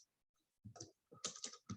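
A computer keyboard being typed on in short bursts of close, crisp keystrokes separated by brief pauses, alone without any talking.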